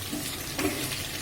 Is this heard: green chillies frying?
yes